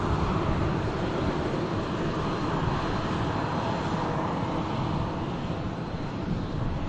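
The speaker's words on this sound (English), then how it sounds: "British Airways taking the intersection out to Munich." A British Airways airliner departing Manchester Airport for Munich from an intersection, a steady broad engine roar holding at moderate loudness throughout.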